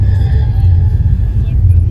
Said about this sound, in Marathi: गाडी सुरू झाली आहे